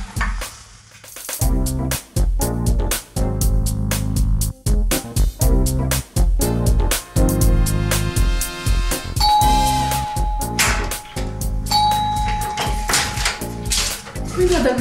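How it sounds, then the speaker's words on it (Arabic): A loud doorbell rings in a home in an Arabic TV comedy scene, with bright electronic chimes that repeat and hold over music and background sound. "مين المزعج هذا اللي عم يدق الجرس بكير؟"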